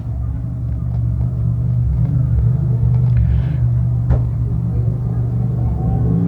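Speedway race cars, limited sportsman class at Can Am Speedway, restart after a stoppage: a steady, loud low engine rumble runs throughout, with a sharp brief spike near the middle and no talk.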